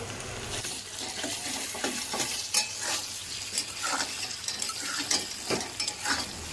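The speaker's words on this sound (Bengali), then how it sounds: "পটল আর কাঁচা লঙ্কা দিয়ে অল্প একটু সময় নাড়াচাড়া করে নেব" Pre-fried pointed gourd and green chili are stir-fried with ginger paste in a pan. Repeated scraping stirring strokes run over a soft steady sizzle, with no talking.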